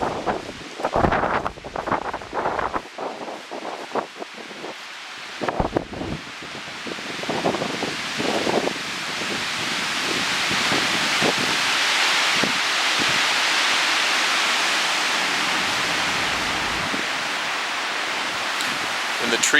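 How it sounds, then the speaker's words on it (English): Strong windstorm gusts roar steadily through trees after a few seconds of rustling and thumping, building into a loud continuous rush that buffets the microphone. "Those are not airplanes, that is high gust of wind."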